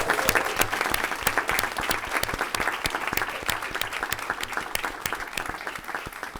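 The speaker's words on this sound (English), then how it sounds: "That warrants applause." An audience applauds National Board Certified teachers at a district event in Austin, Texas, with sustained, even clapping where many distinct hand claps stand out sharply, filling the whole stretch at steady strength.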